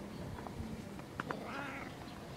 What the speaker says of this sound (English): But he's meowing.